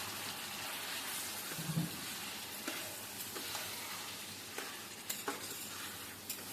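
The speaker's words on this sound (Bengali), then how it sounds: "আমি আদা আর জিরে একসঙ্গে বেটে রেখে দিয়েছি সেটা এখন দিয়ে দিচ্ছি ভালো করে তেলে ঘিয়ের সাথে নাই রেখে নিয়ে এখন আমরা দিয়ে দিচ্ছি পাঠার মাংসটা" Young goat meat (pathar mangsho) frying in hot oil and ghee with ground ginger and cumin, a steady close sizzle with a few scattered louder crackles and stirring clatters, no talking.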